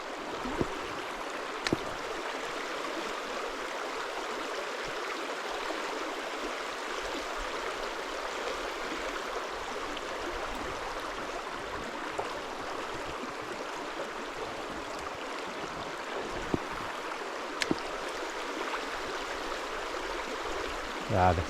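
A low, slow river flows at dusk during a trout fishing outing, a faint, steady watery hiss and soft gurgle with occasional small clicks and a few quiet words nearby.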